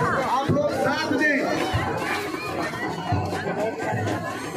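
A dense crowd at a city Chhath Puja gathering, with continuous chatter and shouting voices all around at close range and a loud, unbroken babble throughout.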